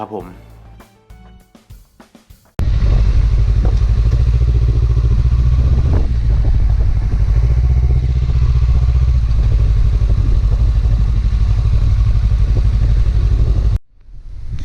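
A motorcycle rides steadily along a road toward Phu Pha Lek National Park in Sakon Nakhon, Thailand, its loud continuous engine drone and wind rumble lasting most of the stretch before cutting off near the end.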